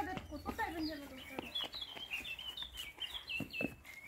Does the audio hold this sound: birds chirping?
yes